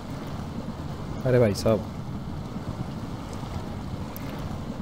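A Tata 4x4 truck driving through water during a mud test: a steady, churning wash of water and engine rumble throughout, with someone briefly speaking over it.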